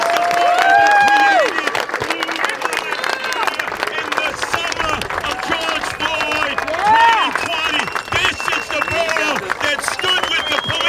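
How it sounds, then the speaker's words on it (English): Crowd at a migrant facility protest on Staten Island breaks into applause and cheering, dense clapping mixed with shouts and babble, with a loud voice speaking over it. "Let's give them a great round of applause"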